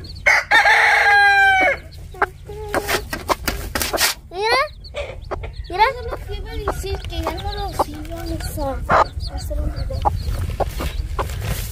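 Chickens on a ranch-style farm cluck and squawk throughout while a rooster crows loudly and nearby near the start, with people talking over the birds.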